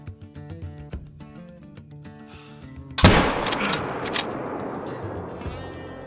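A loud, close rifle shot fired at an animal in the Emerald Coast hunting game, cracking out suddenly over quiet plucked game music and trailing into a long rumbling echo.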